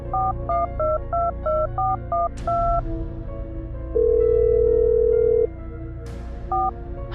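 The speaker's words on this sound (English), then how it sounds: "got her phone and called her father" Phone keypad dialing tones as someone calls her father: a quick run of about eight distinct beeps, a steady tone for roughly a second and a half, then a few more beeps, clear and close over a low background music bed.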